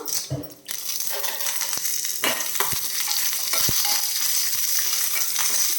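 Dried red chillies and curry leaves sizzle and crackle steadily in hot oil, a close, continuous frying hiss with a few sharp pops and the occasional clink of a utensil against the pan.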